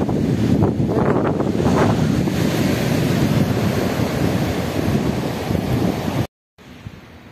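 Waves and gusting wind on a small beach on the east coast of Quiberon in the morning, a steady loud roar of surf and wind buffeting the microphone that cuts out abruptly near the end.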